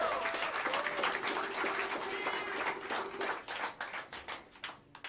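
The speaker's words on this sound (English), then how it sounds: "a wonderful, wonderful round of applause" Steady applause from a jazz club audience at Smalls in New York City, dense clapping that thins into scattered claps toward the end, with a faint sustained tone underneath.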